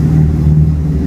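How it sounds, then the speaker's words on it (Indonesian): A car passes close by on a street, a loud low exhaust rumble with a steady drone throughout, recorded nearby with no talking. "nah kebetulan ada mobil lewat,"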